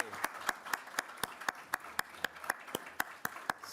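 A House committee meeting gives rhythmic applause for arriving representatives: evenly spaced, quiet claps repeat steadily, about four per second, with a faint room murmur underneath.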